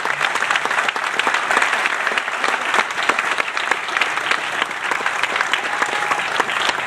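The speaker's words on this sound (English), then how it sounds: "How about a big round of applause?" A crowd at a Ride for Kids charity gathering applauds loudly and continuously, a thick unbroken wash of many hands clapping from start to finish with no break.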